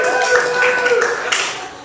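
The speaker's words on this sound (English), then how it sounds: "clap your hands, raise your hand." A comedy show audience claps together, a dense, steady patter of many hands mixed with crowd voices and cheering that keeps going throughout.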